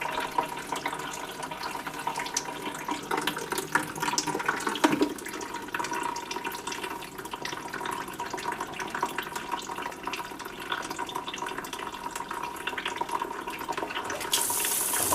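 Hot tap water runs steadily from a faucet into a kitchen sink to rinse browned ground beef, a continuous close splashing hiss with no speech.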